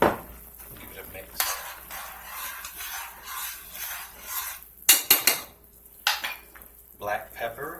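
A spoon clatters and scrapes through a bean mixture in a pot, with irregular metallic knocks and stirring sounds and a faint sizzle underneath, close by, with no talking.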